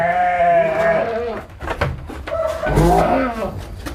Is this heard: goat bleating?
yes